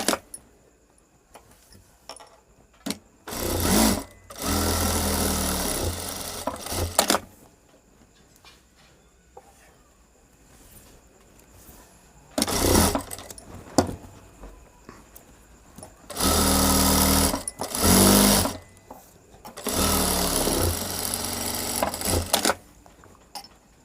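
A sewing machine stitches the open back of a princess cut blouse in several separate bursts of fast mechanical whirring, with quiet pauses between the runs.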